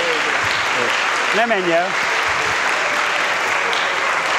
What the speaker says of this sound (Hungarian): tapsolják meg